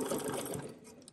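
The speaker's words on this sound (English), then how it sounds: "I'm ready to sew this in just a few seconds." Sewing machine stitching coiled fabric-scrap strips into a rope bowl, a short, steady whirring run of the motor and needle at close range, fading at the end.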